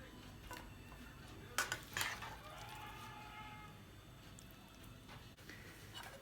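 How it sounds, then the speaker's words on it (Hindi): Cauliflower and mutton curry (gobi gosht) is served from a pot onto a plate with a few light clinks of a spoon against metal and crockery, then faint scraping and quiet stirring in a calm room. "अब हम इसे प्लेट में निकालेंगे।"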